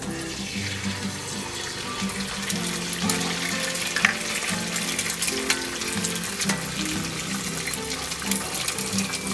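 Eggs fry in grease on a BBQ skillet over a rocket stove, a steady close sizzle and crackle with scattered pops running throughout, no voices.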